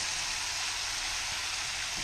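Food sizzling and frying in a pan while it browns for a breakfast burrito, a steady dense crackle that stays even and close throughout with no talking.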